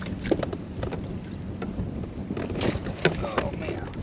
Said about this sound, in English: Wishing this wind wasn't blowing.